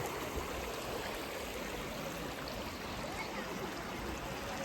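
A cold outdoor water stream in the village of Shivtar near Khed flows in a steady, dense rush that stays close and even throughout, with no voices.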